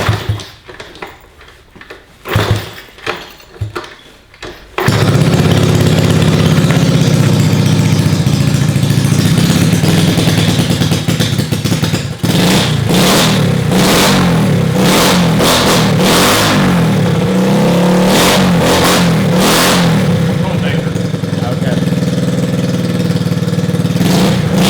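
A Honda CT70 motorcycle with a custom exhaust and fresh carburetor, cranked a few times with sputters before catching, then running loud and close at a steady idle with repeated throttle revs.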